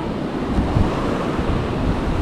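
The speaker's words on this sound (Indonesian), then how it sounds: "pantai ini mantap sekali." Ocean surf rolls steadily onto a beach, a dense, continuous wash of water mixed with wind rumbling across the microphone, with no voices present.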